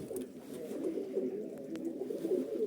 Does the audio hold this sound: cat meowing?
no